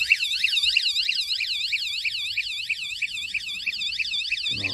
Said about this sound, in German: wenn ich jetzt nochmal an den Roller hinkomme, gibt es den Alarm.